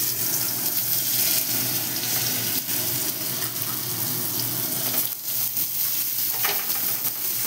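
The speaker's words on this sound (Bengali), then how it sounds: "এবার আমি কড়াইতে যে তেলটা আছে এর মধ্যেই আলুগুলো হালকা করে ভেজে নেব" Potato pieces frying in hot oil in a kadai wok while making a rohu fish curry, a steady close sizzle with light stirring and scraping sounds.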